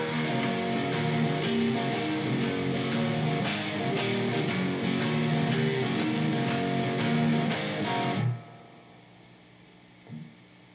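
An electric guitar plays a driving blues shuffle riff, parts 1 and 2 of a song, at full speed with steady rhythmic strummed accents for about eight seconds, then stops abruptly, leaving faint ringing.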